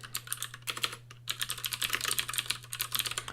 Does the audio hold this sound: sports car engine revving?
no